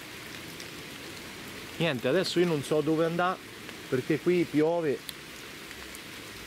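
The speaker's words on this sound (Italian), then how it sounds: "qui piove veramente" Steady rain falls outdoors as a continuous hiss throughout, while a person talks over it in two short bursts.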